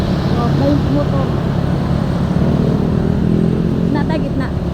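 Motorcycle engine passing along a road during a road trip, a steady close drone mixed with broadband traffic and wind noise, with faint voices underneath and a brief higher whine near the end.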